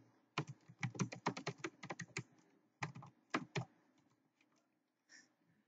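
Quick bursts of typing on a computer keyboard while entering HTML heading text, close and crisp, with a short pause midway and a few scattered keystrokes trailing off; no one talks.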